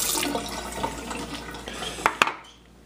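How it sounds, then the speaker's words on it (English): Water is dumped out of a plastic sprout-growing tray and the tray is rinsed, giving splashing and running water followed by a couple of sharp knocks of the tray before it goes quiet. "Dump the water from the bottom tray, give it a quick rinse out."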